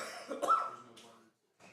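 A man coughs a few times in quick harsh bursts, close and fairly quiet, during a high school football radio broadcast, followed by a short pause and a faint final sound.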